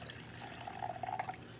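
Regular water is poured into a pot of milk for green banana porridge, a soft trickling splash lasting a moment with no talk.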